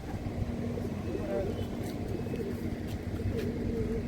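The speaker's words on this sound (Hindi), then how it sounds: "एक कबूतर भी है," Soft, low cooing from a pigeon repeats a few times under steady outdoor ambience and nearby talking, by the waterfront in Fort Kochi, Kerala.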